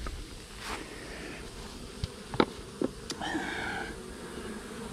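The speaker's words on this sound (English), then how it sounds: "I see some black bees. I see some yellow bees. So we got a bunch of Florida mutts here." Mixed black and yellow Florida honeybees buzzing around a hive, a soft continuous hum with a few louder individual bees passing close by.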